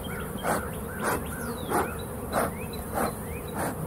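Honey bees around an opened hive during a brood inspection, their buzzing a steady close drone with short rising whines of individual bees flying past the microphone and soft rhythmic pulses; no talking.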